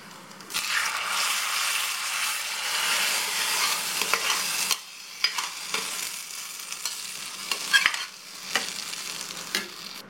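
Hot tempering of spices is poured into lentil and okra kootu and stirred in: a loud burst of sizzling hiss followed by repeated scraping and clattering stirring strokes, close by, no voices.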